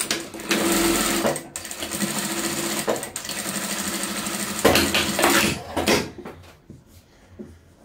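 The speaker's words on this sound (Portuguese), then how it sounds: "A gente sempre costura assim tiras, né?" A sewing machine stitches fabric strips from leftover scraps for a patchwork rug, running in steady loud bursts for about six seconds with brief pauses and clicks, then stopping and leaving quieter handling noises.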